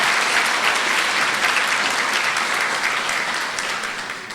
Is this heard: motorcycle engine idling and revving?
no